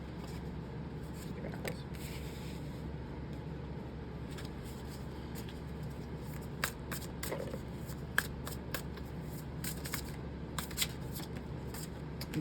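Tarot cards being shuffled and drawn by hand, a steady papery riffle and scattered soft slaps and flicks throughout, close and moderately quiet over a low background hum.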